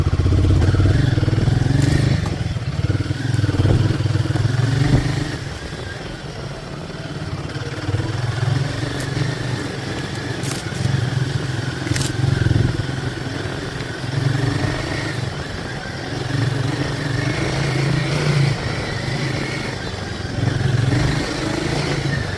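Royal Enfield Hunter 350 single-cylinder motorcycle with a steady thumping engine note that rises and falls gently over a long stretch, close and prominent with a faint clatter.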